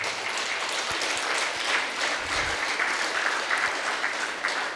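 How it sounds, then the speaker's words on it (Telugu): A meditation gathering's audience applauds the volunteers, a dense sustained wash of many hands clapping at once, fairly loud and continuous across the whole stretch. "వాలంటీర్స్కి అందరు గట్టిగా చప్పట్లు ఒకసారి"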